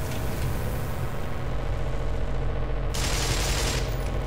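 Enemy gunfire in the Black Mesa game, a dense, continuous rattle of shots that fills the whole stretch, growing brighter and harsher toward the end, with no one talking.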